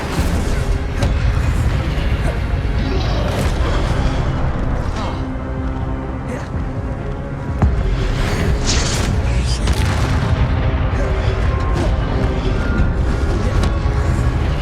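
The Incendio fire spell in Hogwarts Legacy bursts out in loud, dense booms and crackling blasts that roll on continuously, with heavy impacts layered over a busy combat din.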